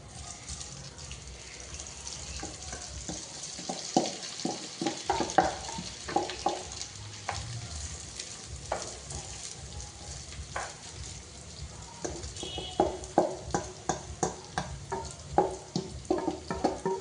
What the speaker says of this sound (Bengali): ফোড়নটা ভালো করে ভাজা ভাজা হয়ে গেলে একটা সুন্দর গন্ধ যখন ছেড়ে আসবে তখন এর মধ্যে দিয়ে দেবো মাখানো চাল